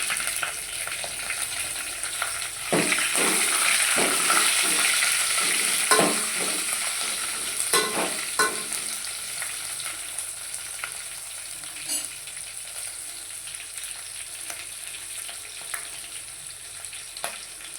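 Chopped green chillies fry in hot oil in a pan for tomato rasam, giving a bright, crackling sizzle with several sharp stirring scrapes early on, then settling into a steady hiss with no talking.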